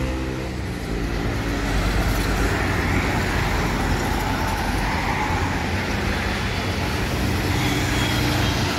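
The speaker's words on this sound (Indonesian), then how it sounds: "Mulai padat kendaraan yang mau kerja." Dense morning city traffic in Palembang, a steady roar of cars, buses and trucks passing close by, continuous and loud with no talking.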